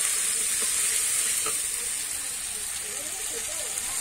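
Ground onion, ginger and garlic paste fries in a pan as it is stirred, a steady close sizzle with faint scraping throughout, cooking cauliflower and potato curry.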